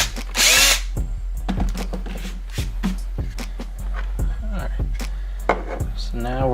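A power drill bores a small hole for battery wires on a homemade REM pod, whining in short bursts with clicks and handling knocks between them. A voice murmurs faintly underneath.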